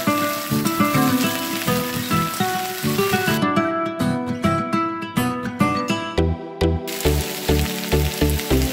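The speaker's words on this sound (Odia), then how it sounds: "ଏବେ କାଟି ରଖିଥିବା ପରିବାକୁ ତା ଭିତରେ ଦେଇଦେବା। ଦେଇ ତାକୁ ଭଲ ଭାବରେ ଘାଣ୍ଟିଦେବା।" Chopped ridge gourd is tipped into onions that have been fried until red and stirred, giving a loud, close, crackling sizzle with spoon scrapes and knocks against the pan.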